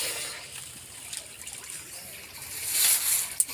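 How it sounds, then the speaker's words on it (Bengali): Water poured into a heated wok for boiling, a soft trickling splash that swells briefly near the end. "সেদ্ধ করে নেব, তার জন্য আমি জল দিয়ে দেবো"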